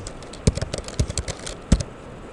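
Keys clack on a computer keyboard while someone types in a LaTeX editor: a close, irregular run of crisp taps with a few louder strokes spaced among quicker light ones, and no voices.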